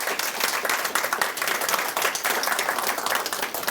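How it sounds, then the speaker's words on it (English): An indoor audience at a workplace health screening event gives a sustained round of clapping, dense and steady applause at moderate loudness with no pauses. "You give yourselves a round of applause"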